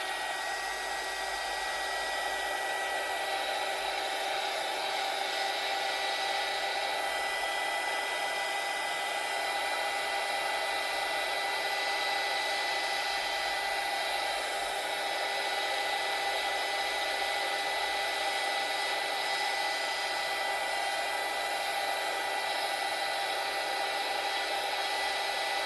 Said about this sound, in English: I think I am going to need the heat gun.